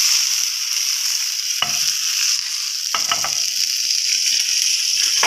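Ghee sizzles steadily in a pan while chicken pizza topping is prepared, a continuous bright hiss broken by a few sharp scraping clicks of stirring, with no talking.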